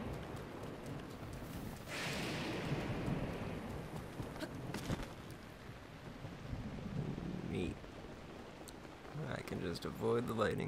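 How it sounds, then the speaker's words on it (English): A thunderstorm rumbles through Zelda Breath of the Wild, steady rain hiss with low thunder rolls and a louder crack near the start, while hoofbeats and a voice come through underneath. "Avoid the lightning relatively easily now."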